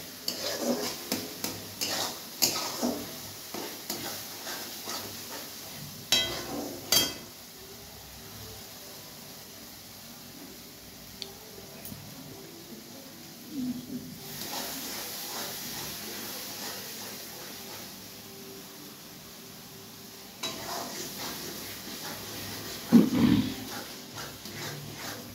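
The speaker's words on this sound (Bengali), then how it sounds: "এরপরে আলুগুলো ঢেলে দিয়ে আর একটু কষে নেবে।" Potatoes stir-fried in spice masala make intermittent clatter and scraping against the pan, with a faint sizzle in between and a louder burst of stirring near the end.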